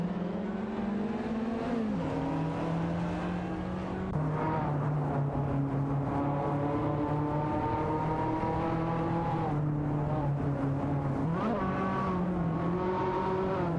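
Racing-game engines of a Dodge Viper GTS XCR99 and a Chevrolet Corvette C4 CR1 drone loudly and steadily, pitch dipping and climbing with gear changes and throttle, sustained with no pauses.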